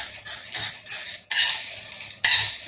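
Dry lentils (dal) rattling as they are shaken and stirred while dry-roasting on a flat iron tawa, loud bursts of gritty, clattering rustle separated by short pauses, close and alone.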